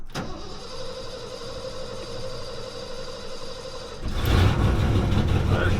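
Barn find truck started for the first time this year: a short starter crank, then a steady mid-pitched engine idle, before the engine revs louder and rougher near the end, close by.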